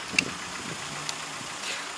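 A car engine idles steadily at low volume as the car is driven into a garage, a faint continuous rumble with a couple of brief knocks on top.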